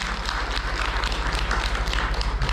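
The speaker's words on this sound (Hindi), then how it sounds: "तो एक बार जोरदार तालियों चाहूँगा मैं डॉक्टर सुरेंद्र वत्स सर के लिए।" An audience at an RCM gathering applauds a guest, a dense, steady clatter of many hands clapping together close by, without any voices over it.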